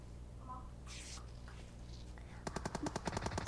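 PUBG Mobile gunfire arrives as a rapid automatic burst of evenly spaced shots near the end, following a stretch of quiet game ambience and faint sounds.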